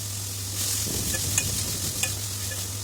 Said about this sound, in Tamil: அப்புறம் தக்காளியும் போட்டு நல்லா கிளறுங்க